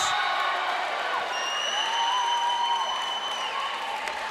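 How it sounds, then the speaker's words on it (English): Spectators at a women's gold medal volleyball match clap along in a steady roar of crowd noise, fairly loud and continuous, with a sustained whistle-like tone heard partway through. "A lot of support from Pro Volley and the Canberra Heat men over the back, clapping along with the women."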